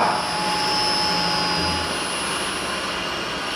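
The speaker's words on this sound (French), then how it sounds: "La machine est en train de rouler d'une façon convenable" An electric motor driven by SPWM control running steadily in a lab, a loud continuous whine and hum with fixed high tones, unchanging throughout.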